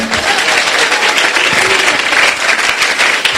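A church congregation of young worshippers claps loudly and continuously in a dense, energetic burst of applause mixed with crowd noise, lasting a few seconds.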